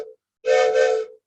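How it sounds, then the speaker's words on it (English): A steam engine whistle sounds once, a loud, steady tonal blast lasting under a second with a slight dip midway, preceded by a brief lower tone and then silence. "Steam engine, woo woo. Oh, it has a wonderful whistle."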